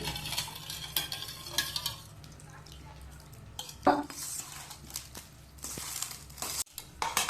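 Curd being stirred into cooled cooked rice at home to make curd rice, giving soft wet squelching and scraping stirs with brief clinks, moderately near and fairly quiet, with some faint voices in the background.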